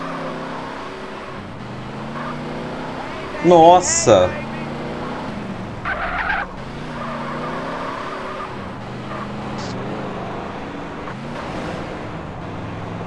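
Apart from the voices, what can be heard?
car driving and skidding in the video game GTA San Andreas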